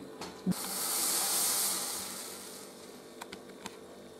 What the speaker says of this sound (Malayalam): ശർക്കര ചായയും തിളച്ചു